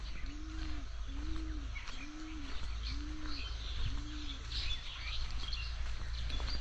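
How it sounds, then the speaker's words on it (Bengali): Five evenly spaced dove-like coos in the open air of a cold, foggy winter morning in a village, with a faint chirp here and there over a steady low rumble. "অনেক ধরনের পাখির কলকাকলি ভেসে আসছে এই শীতের এই সময়ে।"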